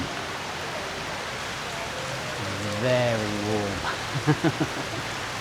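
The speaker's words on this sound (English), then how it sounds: "it's hammering it down with rain" Heavy tropical rain in Singapore hisses steadily in the background while a person briefly talks over it nearby.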